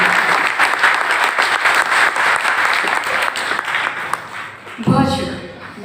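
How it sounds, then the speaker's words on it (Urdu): A hall audience at a book launch for two books by author Shaheen Kamal breaks into loud, sustained clapping from many hands, then tapers off near the end as a voice begins speaking. "اگر آپ لوگ ایک دفعہ تالی بجا دیں گے"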